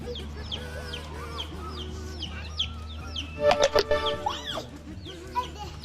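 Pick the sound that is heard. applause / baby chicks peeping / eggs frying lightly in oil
baby chicks peeping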